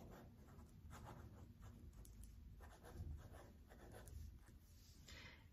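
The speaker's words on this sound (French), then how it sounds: "sur la feuille, vous allez écrire" Pen scratching across a sheet of paper as a name is written, soft continuous scribbling strokes in short bursts, close and quiet with no talking.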